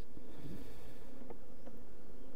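Honeybees hum steadily inside a hive where a new queen has just emerged, a continuous close, moderately loud buzzing with occasional brief louder passes of individual bees.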